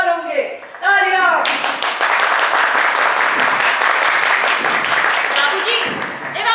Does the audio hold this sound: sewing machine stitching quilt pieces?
no